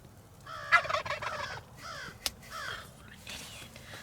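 A wild turkey gobbler in the Kansas hills during spring gobbler season gives a sharp, rattling gobble up close, with another brief call and faint bird sounds around it.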